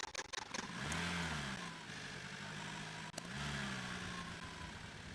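A car engine in the driving game Drive Beyond Horizons, heard as a steady mid-pitched hum that rises and shifts as the vehicle pulls away, with a brief dip midway and no talk.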